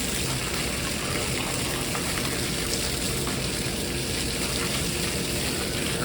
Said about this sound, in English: I'm also watering our big avocado tree as well